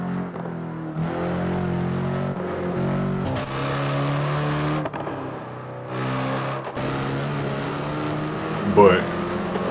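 Hyundai Elantra N driving, its engine holding a steady, close drone with a few shifts in pitch and brief dips, plus a short rise near the end.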